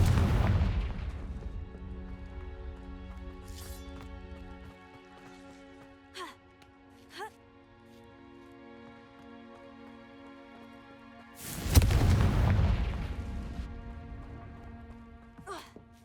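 Fiery Confringo spell blasts in Hogwarts Legacy: one booming explosion opens, a few small pops follow during a quieter lull, and a second loud blast lands near the end, with some speech between.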